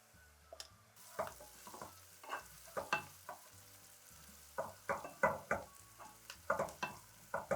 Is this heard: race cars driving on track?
no